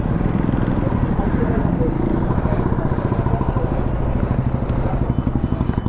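An Apache RR310 motorcycle with a faulty throttle idles close by, its engine running as a steady, dense rumble with rapid pulsing throughout; voices are faintly present.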